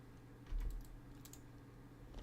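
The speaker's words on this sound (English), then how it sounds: "I'm hitting the wrong keys here" Quick, soft clicks of computer keyboard keys being typed, a short irregular burst close by and at low level, with no voices.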